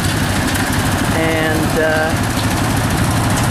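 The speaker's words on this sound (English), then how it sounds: "See where my husband is going to go with the tractor from hell" A tractor engine runs loud and close, a steady rumbling drone with a knocking, vibrating edge, while a voice briefly speaks over it outdoors.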